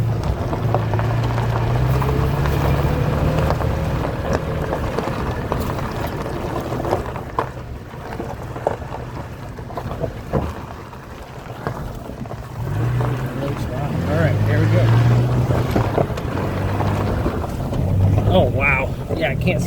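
A Toyota Tacoma crawls off-road through Nevada desert in 4-low with the differential locked, its low engine drone rising and falling beneath wind buffeting the microphone.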